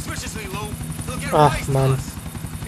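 Helicopter rotor and engine drone from GTA IV: The Ballad of Gay Tony, a steady mid-level hum running under a man's brief exasperated speech, with a short louder burst midway.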